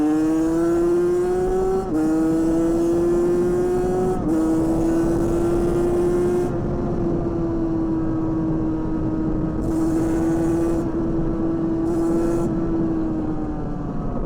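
A derestricted 50cc AM6 motorbike engine rides downhill with a stock airbox. It gives a loud, steady, buzzing drone that climbs through short gear pulls, then holds an even pitch close to the listener, with no talking.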